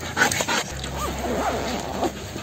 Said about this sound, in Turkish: Köpek şantaya tepki veriyor.